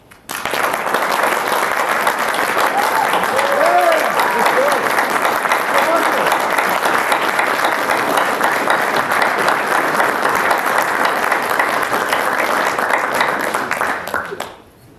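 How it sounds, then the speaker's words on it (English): Sustained audience applause at an Eagle Scout ceremony at the Texas State Capitol, a dense, steady wash of many hands clapping that fades out at the end, with faint voices mixed in. "Round of applause."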